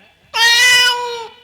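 A single long, plaintive cat meow, loud and close, rising sharply then trailing off slowly, with quiet background otherwise.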